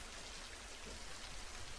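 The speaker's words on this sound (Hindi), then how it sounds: "बाहर कितनी तेज बारिश हो रही है" Heavy rain falls outside in a steady, even hiss of drops on surfaces, continuous and fairly distant with no voices.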